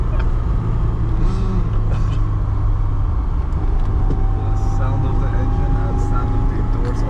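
2010 LADA 2107 1.6 manual car engine while driving, a steady low rumble heard from inside the cabin with someone talking over it.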